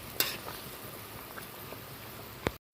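A spicy Bhola sea fish curry bubbles in a pot, a close, steady simmering hiss with a few soft pops and clicks before it cuts off abruptly.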